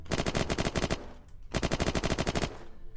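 A gun in the video game Unturned fires two rapid bursts of sharp, loud automatic shots, about a dozen each, separated by a short pause.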